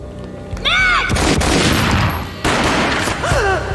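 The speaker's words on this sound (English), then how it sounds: "A gunshot boomed and she fell down in slow motion." Gunfire in the Max Payne graphic-novel sequences: two loud, close bursts of booming shots, each following a short vocal cry, with echoing tails between them.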